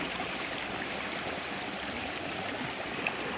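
A flooded creek rushes after rain in a continuous, even wash of flowing water, close by and steady throughout.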